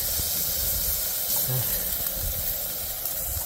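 Bacon sizzles in a pan outdoors in Iceland beside a waterfall valley, a steady close hiss throughout with a brief low voice in the middle.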